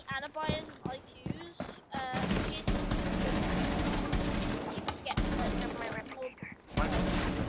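Rapid bursts of gunfire from a console first-person shooter crackle almost continuously through the clip, dense and loud, with game voices and broadband battle noise mixed in.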